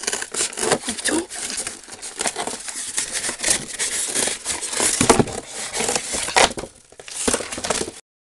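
The back of a cardboard box being cut off, with dense rasping, crinkling and tearing of cardboard close up for several seconds, a brief pause, then more cutting.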